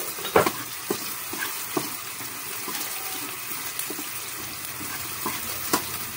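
Onions sautéing in a pan for chicken curry with coconut give a continuous close sizzle. Sharp scrapes and clacks of stirring mark it at intervals, and no one speaks.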